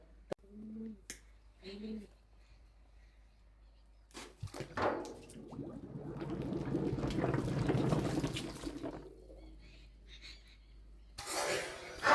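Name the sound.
pomegranate being dropped into water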